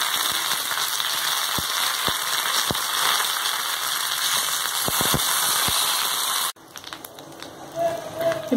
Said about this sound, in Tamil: இப்போ நம்ம கருவேப்பிலை போட்டுக்கலாம்